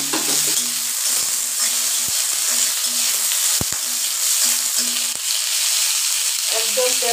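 Green chili and onion frying in oil in a pan, a loud continuous sizzle close by, with stirring scrapes and a few sharp clinks, and no speech.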